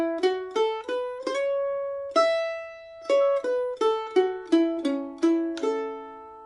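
A mandolin plays the opening two bars of the B part of Monroe's Hornpipe, an intermediate-level fiddle tune, as a quick run of clean plucked notes with one longer held tone midway, close and clear with no talking.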